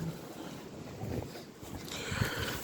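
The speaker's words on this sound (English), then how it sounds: "I just wanted to show you how windy it was and that we're outside" Wind gusts blow steadily across an outdoor microphone on a windy day, a continuous low rumble and roar that surges toward the end, with no voices.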